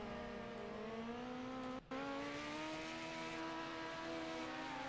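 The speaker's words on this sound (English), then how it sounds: "These little midget cars are not all that loud anyway" Midget race car engines drone in a racing video game, several steady high-pitched engine tones holding and slowly shifting pitch, with a brief dropout partway through.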